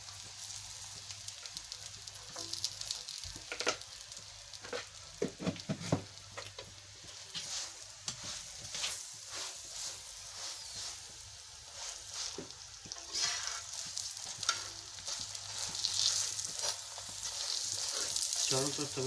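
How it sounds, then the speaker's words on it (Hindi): A potato paratha fries in ghee on a tawa, giving a continuous crackling sizzle with spattering bursts and occasional scrapes as it is turned and moved around the hot surface. "चारों तरफ तवे के ऊपर इस तरह घुमाते हुए इसे बनाते जाना है"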